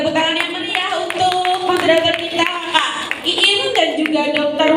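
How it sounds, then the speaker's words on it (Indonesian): An audience at a seminar on antibiotic and antimicrobial use claps for the moderator, scattered hand claps heard alongside an MC's amplified voice speaking over them. "kita berikan tepuk tangan yang meriah untuk moderator kita Kak Iin"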